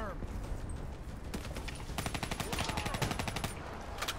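Rapid bursts of video game gunfire from a Call of Duty: Black Ops 3 campaign mission, dense and close, with overlapping shots and some clatter of effects throughout.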